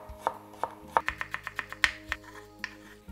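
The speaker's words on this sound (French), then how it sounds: "Et daikon. Et aussi, je coupe fin." A knife finely chopping daikon radish on a board gives about a dozen crisp, distinct cuts in an uneven rhythm, close and clear, with no talk.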